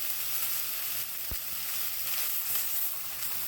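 Lamb chops browning in a pot for a stew, giving a steady, close sizzle and fry crackle that runs through the whole stretch with no talk over it.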